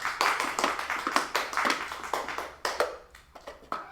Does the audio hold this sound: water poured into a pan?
no